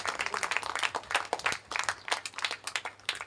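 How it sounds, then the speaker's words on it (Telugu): An audience at a St Joseph novena Mass in the Kadapa diocese claps together in welcome, producing a dense, continuous patter of hand claps at moderate distance. "గట్టిగా చప్పట్లు కొడదాం."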